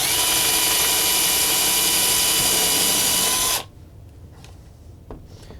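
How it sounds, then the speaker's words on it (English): A power drill drives a screw into wood while power bars are installed, a loud, steady whine running for several seconds before it cuts off, leaving a quiet room with a few faint clicks. "The nice part about having 2 drills is that you can just swap to the other one."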